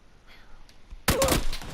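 Gunfire erupts in PUBG on the Sanhok map, played on PS4: a sudden loud, dense burst of shots that cuts in after a quiet, muffled stretch and keeps rattling to the end.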